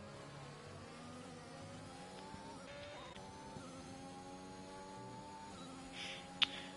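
Formula 1 cars race in a video game at the Spain round, engines whining at high revs and shifting pitch as they pass, fairly quiet and steady with a brief sharp burst near the end.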